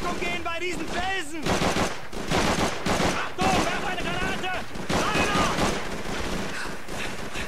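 Machine gun fire in Call of Duty 3, repeated rapid bursts of automatic gunfire crackling through the battle, with shouted voices and talk over the shooting.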